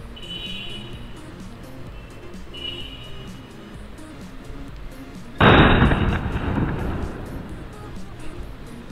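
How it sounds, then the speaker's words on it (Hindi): A small Coke brand firework rocket fired for Diwali, launching with a sudden loud whooshing burst midway that fades over a couple of seconds, after quieter outdoor background with faint whistles. "छोटा रॉकेट है, कोक ब्रांड का है"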